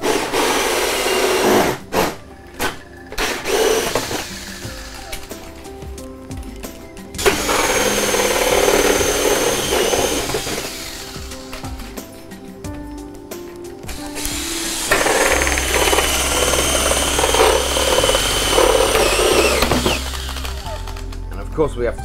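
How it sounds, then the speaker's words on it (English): A power drill with a 44mm hole saw grinds through PVC in several long bursts separated by short pauses, loud and close, with rattling bits between cuts. "I'm just using a 44mm hole saw, or a 1 3/4 inch"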